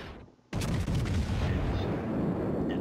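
Battleship main guns fire in World of Warships: one abrupt, powerful boom bursts out after a quiet moment and trails into a long, loud, rumbling roar.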